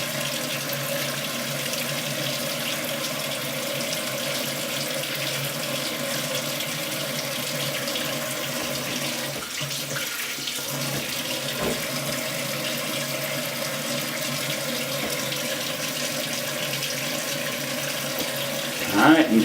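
Tap water runs continuously into a sink while a safety razor blade is rinsed under it, a steady close rushing stream with a brief clatter near the end.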